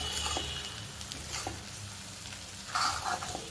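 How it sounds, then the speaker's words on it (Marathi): Poha being stirred in a pan with onion, green chili and peanuts, a soft steady sizzle with scraping stirs of a spoon, close and fairly quiet, no voices. "हे सगळे मिक्स करून घेतो आपण छानसे मिक्स करून घ्यायचे"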